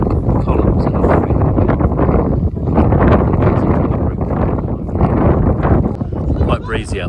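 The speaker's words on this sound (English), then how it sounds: "Quite breezy up here." Strong wind rumbles and buffets the microphone at an open hilltop site among ancient burial chambers in Paphos, Cyprus, steady and loud while a person talks over it.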